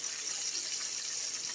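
Water pours steadily into a crockpot, about a quarter to half a cup, making a continuous close hiss with no talk over it.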